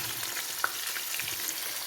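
Steady crackling sizzle of chicken frying in oil, with a soft clink near the middle and no voices.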